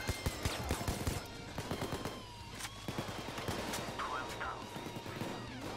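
Rapid bursts of automatic gunfire from the heist shooter Payday 2, repeated cracks and volleys close and loud, with players talking over the shooting.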